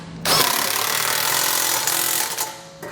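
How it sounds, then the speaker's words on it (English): A power tool runs bolts in for skid plate hardware on a vehicle base plate kit install, a loud continuous rattling whir that starts abruptly, holds steady for over two seconds, then cuts off. "with our skid plate roughly in place, we can come back and tighten down our hardware"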